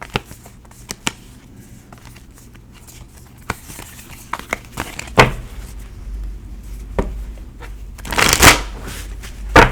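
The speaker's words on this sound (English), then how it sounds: "Give me a second while I'm shuffling." Tarot cards being shuffled by hand, a run of crisp riffling snaps and soft flutters that start sparse and build into denser bursts, heard up close with no talking.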